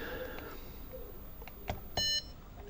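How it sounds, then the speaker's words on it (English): ZX Spectrum Plus home computer giving a short electronic beep, preceded by a few faint clicks, quiet and alone. "beep."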